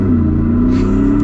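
A 2023 Shelby F-150 Super Snake Sport pickup accelerates hard, its engine giving a loud, close, steady low rumble with a smoothly rising tone over a short burst.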